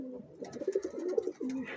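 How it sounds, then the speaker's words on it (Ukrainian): Low, throaty pigeon cooing in a steady rolling stream, close by, with a few brief breaks and faint background noise. "Оцей голуб серйозний."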